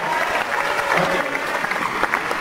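Short burst of audience applause at a stand-up comedy show, a full room clapping loudly for a couple of seconds with scattered voices underneath.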